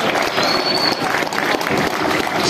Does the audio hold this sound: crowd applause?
yes